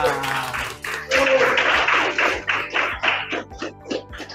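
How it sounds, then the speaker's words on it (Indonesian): Classroom audience claps hands in a rhythmic, even beat, loud and close, with voices mixed in. "tepuk tangan untuk kita semua"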